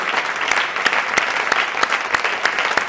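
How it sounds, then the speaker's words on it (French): A congregation at a French-language prayer gathering claps steadily together, a sustained wash of many hands with regular accented beats about every third of a second, loud and close, with no voices rising above it. "Acclamez très fort le Seigneur"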